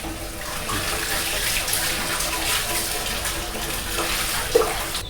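Water gushes from a household tap in an Arunachal Pradesh home, a steady, fairly loud rushing stream that stays even throughout and is heard alone.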